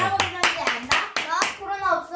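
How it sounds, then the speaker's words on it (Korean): Family members clap in a quick, uneven burst of claps at a child's birthday celebration, close and lively, with children's voices chattering through it. "오오오오 박수!"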